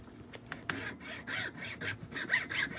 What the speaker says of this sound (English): So I switched over to a Japanese style saw